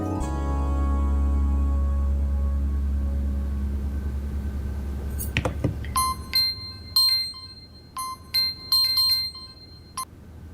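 A telephone rings in a drama scene, a series of short electronic ringtone bursts in an irregular rhythm following a low rumbling hum, fairly loud with no talking.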